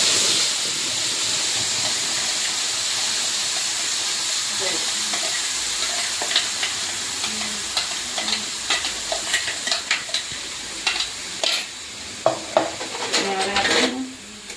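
Onion-tomato gravy with turmeric added to a pan over low gas for rajma and stirred while cooking, a steady hiss and sizzle with scraping spoon strokes growing more frequent toward the end, close and loud.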